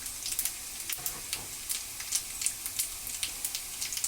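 Cumin seeds and dried chili crackling in hot refined oil, a steady close hiss broken by frequent sharp pops in an uneven rhythm, with no voices.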